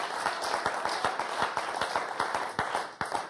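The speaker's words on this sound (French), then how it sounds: "Nathalie, on vous applaudit très très fort" A small television game show studio audience applauds a contestant, with distinct, fairly light individual claps at an uneven rhythm and no talking over them.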